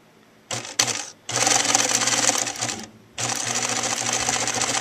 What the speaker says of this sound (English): you're going to sew it right here next to this top edge over here